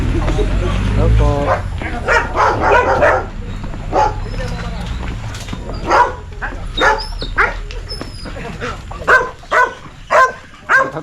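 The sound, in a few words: fierce dogs barking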